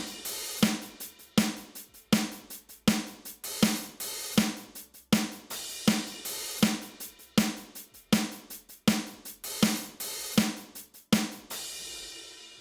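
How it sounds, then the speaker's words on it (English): A programmed pop punk drum beat built in FL Studio with a faster snare rhythm, sharp hits landing in a steady, evenly spaced pulse of about two per second, loud and alone. "I'm gonna use the faster snare rhythm"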